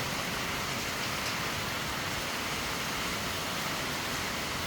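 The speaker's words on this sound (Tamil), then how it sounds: "வெளியே பாருங்கள் மழை வெளுத்து வாங்கிட்டு மழை சரியான மழை" Heavy rain pours down outdoors in a steady, dense wash of noise, loud and unbroken throughout, with no voices over it.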